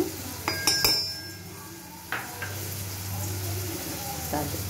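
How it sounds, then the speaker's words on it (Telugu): Ingredients for ginger chutney fry in a pan with a low, steady sizzle, punctuated by several sharp metallic clinks and taps of a spoon against the pan, all at moderate loudness. "వేగుతున్నాయి కదా"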